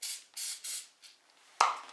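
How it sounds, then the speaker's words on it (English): Oil spray from a can misted lightly over biscotti dough: several short hissing bursts in quick succession, close and fairly loud, then a brief clatter as the can is set down, with no talking. "We're now going to spray it with oil spray, lightly."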